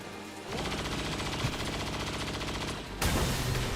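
A magnetic grenade in XCOM 2 going off as a loud, dense rattling blast of game explosion and gunfire that holds steady, with a second sharp burst near the end.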